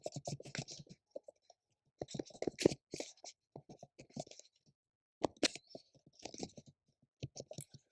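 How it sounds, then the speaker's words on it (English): Close, quiet clicking of a computer keyboard as an email address is typed, coming in short bursts of rapid keystrokes separated by brief silent pauses. "So I'm going to type my email here."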